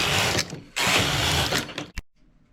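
Knitting machine carriage sweeping across the needle bed for two separating rows in English rib stitch: two loud, rasping mechanical passes with a brief gap between them, followed by a short clack and then near silence.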